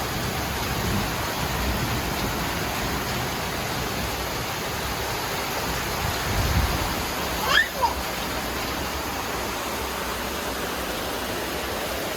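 Heavy rain pours steadily on a balcony garden, a dense unbroken hiss lasting throughout, with a couple of brief knocks near the end.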